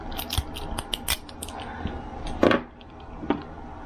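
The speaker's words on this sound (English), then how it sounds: "Cut that tape and just like that." Scissors snip through tape on a $3.40 modem lithium battery pack, a few close, crisp cuts with a louder snip midway and small handling rustles around them.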